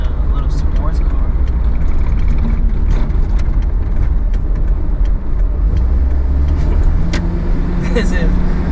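Interior drive in a Daihatsu Rocky taking turns at around 70 km/h, with a loud, steady low road and engine rumble filling the cabin and occasional faint clicks and squeaks.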